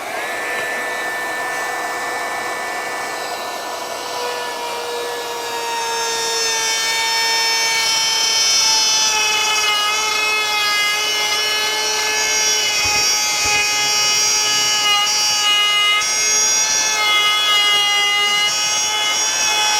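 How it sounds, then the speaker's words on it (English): A Kobalt 24V brushless compact trim router routes a groove in wood, giving a loud, steady high-pitched whine with harmonic tones that climbs and grows louder as the bit bites in, then holds a sustained cutting roar with no talk. "Now let's run that same type of groove a little further over,"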